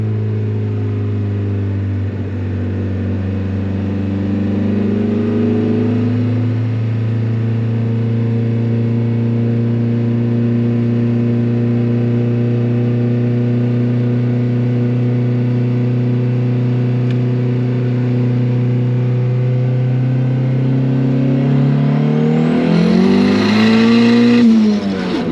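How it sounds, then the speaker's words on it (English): A built turbocharged Honda Civic with methanol injection, its engine droning steadily at cruise while driving, then climbing into a loud rev near the end; continuous engine tone throughout with no talking. "We'll fire up the car and go take it for another ride."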